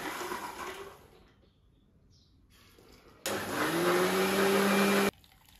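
A kitchen blender switches on and whirs loudly for about two seconds while blending cluster bean juice, after a quieter stretch of background hum, then cuts off abruptly.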